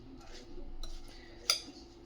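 A spoon clinks and scrapes in a bowl while mixing matki bhel with lemon juice, soft stirring with one sharper metallic clink near the end.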